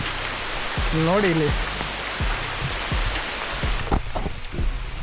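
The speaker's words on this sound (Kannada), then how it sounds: "ಸಿಕ್ಕಾಪಟ್ಟೆ ಮಳೆ ಬರ್ತಾ ಇದೆ" Heavy rain pours steadily onto a rocky path near a hidden waterfall, a loud continuous hiss broken by drips and splashes, with a person speaking briefly over it.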